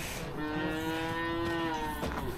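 Cows in a field give one clear, sustained moo lasting about two seconds, heard at moderate distance with a soft outdoor background.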